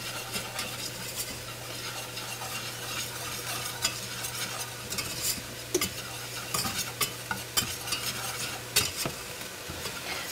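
Flour being stirred into a paste in a pot for cheeseburger soup, a steady scraping stir with soft sizzling and occasional utensil clinks against the pot, fairly quiet, with a low steady hum throughout and no talking.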